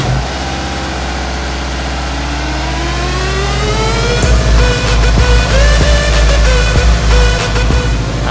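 A car engine cranks and fires up after an idler pulley replacement, then settles into a steady idle with some revving, loud and close with no squeal, with no talking.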